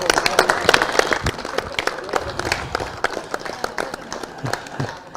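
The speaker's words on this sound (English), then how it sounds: "Give a big round of applause for yourself." Outdoor crowd applauding at a Twenty20 cricket final, scattered claps rising into a steady moderate ovation with some voices in the background.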